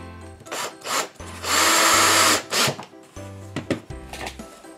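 A power drill driving screws into wood in bursts of whirring, one long sustained run among shorter pulses, close and loud, with no speech.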